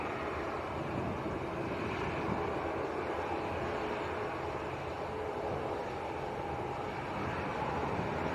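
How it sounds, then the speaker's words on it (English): A Jet2 airliner's engines roar steadily at Leeds Bradford Airport, a broad continuous rumble that stays loud and even throughout with no speech over it. "I hope we didn't turn away for this Jet 2 too soon."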